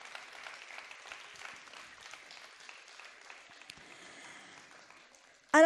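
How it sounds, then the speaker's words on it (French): A crowd claps steadily at a moderate distance during a prize-giving ceremony for a multilingual kamishibai contest at the MCJP, the applause gradually thinning out before a sudden loud noise at the end. "Bravo à tout le monde, on vous applaudit vraiment très très fort."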